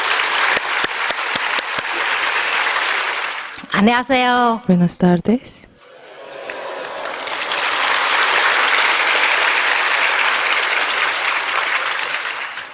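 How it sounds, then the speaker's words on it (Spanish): Church congregation applauding a speaker at a summer revival service, steady clapping that breaks off while a voice briefly speaks a greeting, then swells back into sustained applause. "Por favor, demos un gran aplauso al subir."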